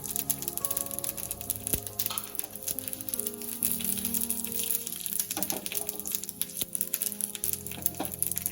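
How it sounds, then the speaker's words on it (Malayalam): Two dried red chillies sizzle in hot oil with mustard seeds in a pan, steady crackling and spitting close up, with sharp pops scattered throughout and no talking. "ഇനി ഇതിലേക്ക് 2 വറ്റൽമുളക് ചേർത്ത് കൊടുക്കാം."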